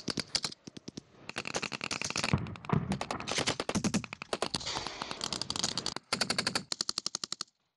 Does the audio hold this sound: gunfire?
yes